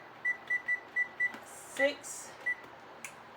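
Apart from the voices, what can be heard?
kitchen timer beeping as it is set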